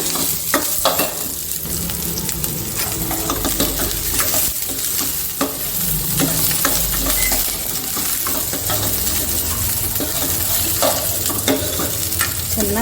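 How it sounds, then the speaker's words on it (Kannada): Onion and garlic fry loudly in hot oil for a sambar, with a constant dense sizzle and frequent metallic scrapes and clinks of a spoon stirring in the pan. "ಎಣ್ಣೆಗೆ ಈರುಳ್ಳಿ ಮತ್ತು ಬೆಳ್ಳುಳ್ಳಿನ ಸ್ವಲ್ಪ ಹುರ್ಕೊಂಡ್ಬಿಡೋಣ"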